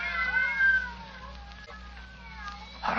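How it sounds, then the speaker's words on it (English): Several cats meow and caterwaul in a closed room, drawn-out wavering cries overlapping at moderate volume against a low steady hum, with a brief burst of noise at the end. "some fiend, knowing her deadly fear of cats, has locked her in here with half a dozen of them"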